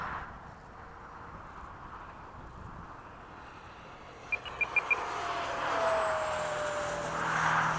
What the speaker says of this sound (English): It's obviously a jet, but you're able to enjoy it when it goes by